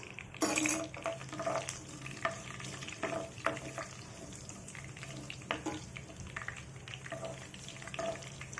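Grated ivy gourd and sour mango fry in hot oil for a pickle, a steady close sizzle broken by repeated scraping and stirring clinks of a utensil against the pan.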